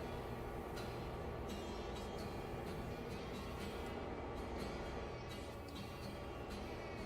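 A train made of two demotorized DMUs runs in a railway video game, giving a loud, steady rolling rumble with faint rail clatter throughout and no voices.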